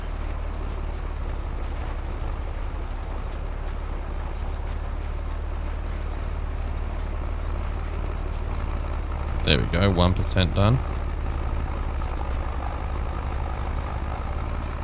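A small tractor's engine drones steadily in a farming video game, a constant low hum climbing a slight incline, with a brief burst of sharper mechanical sound midway and a voice talking over it.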